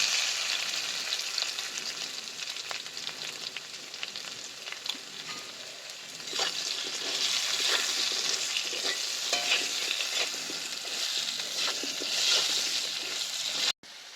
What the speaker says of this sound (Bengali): লবণ হলুদ দিয়ে আলুগুলো আমি ভালো করে ভেজে নেব।